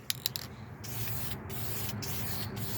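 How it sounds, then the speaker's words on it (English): Aerosol spray paint hisses onto an engine valve cover in several bursts separated by short pauses, after a few brief clicks of the can at the start; fairly quiet and close. "just spray it on there"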